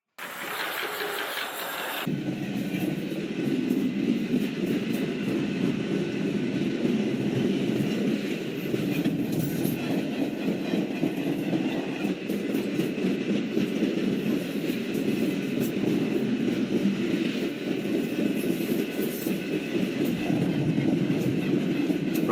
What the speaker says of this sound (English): look at how long this train is